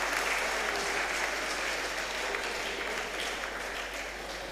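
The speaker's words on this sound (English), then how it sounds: "Another round of applause for them." Sustained audience applause at a national public speaking competition semi-final, a dense even wash of clapping that fades slightly toward the end.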